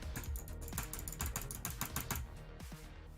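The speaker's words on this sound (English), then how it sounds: "It's very loud compared to the other one in normal clicking." A Logitech 502 computer mouse clicks loudly and rapidly, a fast irregular run of sharp close plastic clicks with no talk over them.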